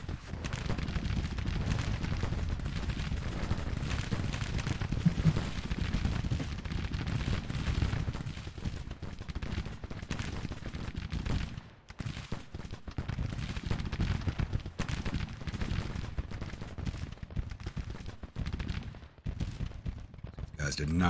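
Massed regiment musket fire in the Civil War strategy game Grand Tactician, a continuous crackling rumble of volleys and scattered shots that holds steady throughout, with someone talking over it.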